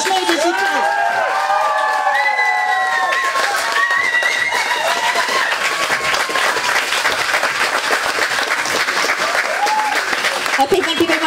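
Standing ovation at the Global Youth Awards 2018 ceremony in London, a crowd on its feet: steady, loud applause with cheering, whoops and shrill shouts sustained throughout without pause.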